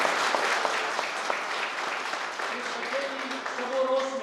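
Audience applause at a welfare organisation ceremony: a steady, dense wash of many hands clapping throughout, with a voice rising over it toward the end.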